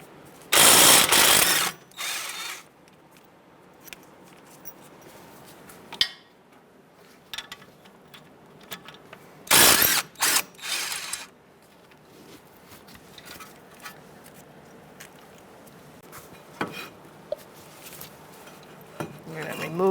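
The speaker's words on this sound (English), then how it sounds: "I'm going to use a 17mm swivel socket to take off my brake caliper bracket bolts." A 17mm swivel socket works loose the brake caliper bracket bolts on a 2010-2013 Kia Soul 2.0L, giving loud bursts of metallic ratcheting and clanking at the start and midway, separated by quieter tool handling and small clicks.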